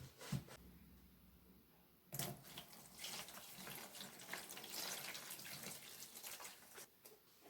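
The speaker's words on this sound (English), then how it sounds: "Once you have a good amount, then you're going to add water to it." Tap water runs and splashes into a container of shredded newspaper for papermaking, a steady close pour starting after a brief clatter and continuing to the end.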